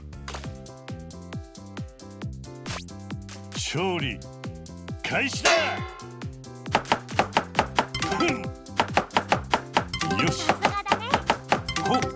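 Rapid chopping thunks from a food-chopping cooking minigame in Yakuza Kiwami 3 (an extravagant bento), sparse at first, then a quick run of evenly spaced hits toward the end, mixed with game music and chimes and with someone talking over it.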